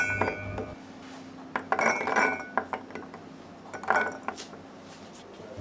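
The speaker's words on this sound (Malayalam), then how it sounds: "അപ്പോൾ നമുക്ക് ഈ വെള്ളക്കടല ആദ്യം തന്നെ മിക്സിയിലെ ജാറിലോട്ട് ഇട്ട് കൊടുക്കാം" Soaked white chickpeas tumble and clink into a steel mixer-grinder jar for falafel, in a few close, scattered rattling bursts separated by short pauses.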